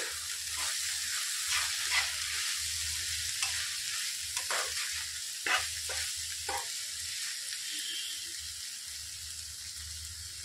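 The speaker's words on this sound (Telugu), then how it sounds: "మొత్తం కలిసిపోయేలా కలుపుకోవాలి" Capsicum masala gravy with coriander powder is stirred in a pan, heard as a soft continuous sizzle under intermittent spoon scrapes and taps against the pan, close and fairly quiet, with no one talking.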